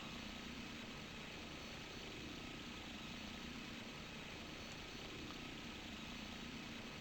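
Helicopter engine and rotor in a flight video game, a steady, even drone with a faint hum that holds unchanged throughout, with no voices.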